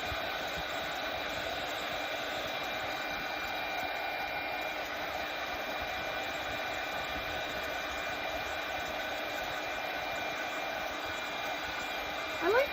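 A hair dryer blows steadily while drying paint on a craft sign, a constant close whooshing hiss with a motor hum that stays even throughout.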